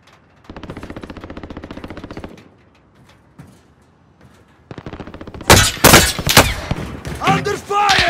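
Rapid machine-gun bursts in Call of Duty: Warzone rattle in two long strings, then louder, closer shots and impacts burst out amid chaotic battle noise.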